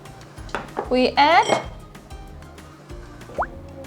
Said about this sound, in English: Beat the egg gently.